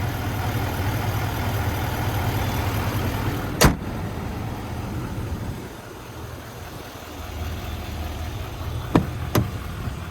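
Chevrolet Silverado 3500 HD dual-rear-wheel pickup with the 6.6-liter Duramax diesel idling, a steady low rumble with a sharp clunk near the middle and two brief clicks toward the end.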